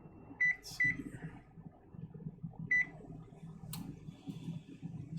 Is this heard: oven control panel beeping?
yes